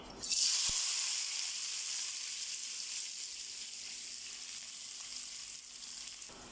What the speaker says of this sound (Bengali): তেল গরম হয়ে গেছে, এখন পেঁয়াজ দিয়ে দিছি।